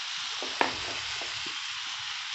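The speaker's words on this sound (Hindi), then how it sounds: "ये देखें, इधर से हमारा जिंजर गार्लिक जो है ना वो सौते हो रहा है" Ginger and garlic sauté in a pan with a soft, steady frying hiss, and a single sharp clink of a spoon or spatula against the pan lands early on.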